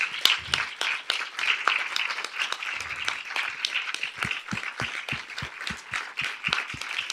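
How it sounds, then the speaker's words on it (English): An audience at an environmental justice symposium claps in a steady, moderately loud round, with sharp individual hand claps standing out near the microphone toward the end. "Please give her a round of applause."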